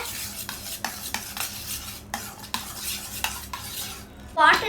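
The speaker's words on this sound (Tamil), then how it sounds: "இப்போ வந்து இதை நல்லா மிக்ஸ் பண்ணலாம்" Homemade slime stirred with a utensil in a bowl gives repeated soft wet scraping and clinking strokes in an uneven rhythm, close by with no talk.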